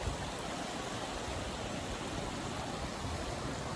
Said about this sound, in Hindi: और ये पानी का आवाज शुरू।